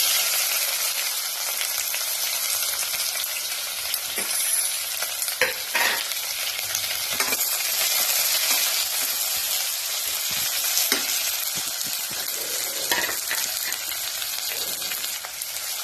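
Chopped garlic and fennel seeds fry in a hot pan for a chicken curry, giving a steady, dense sizzle that runs the whole time, with occasional louder crackles and stirring scrapes, close up and with no voices.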